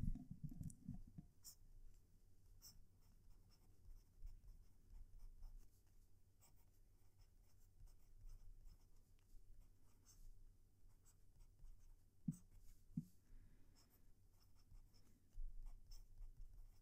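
A TWSBI fountain pen scratches across quality paper, a faint, close, continuous writing rasp with occasional small clicks and taps over a quiet room.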